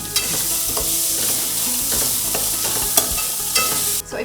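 Spices tempering in hot oil in a pan for mango semiya pulihora, a loud, continuous sizzle punctuated by sharp spoon-against-pan clicks and scrapes as they are stirred, close up.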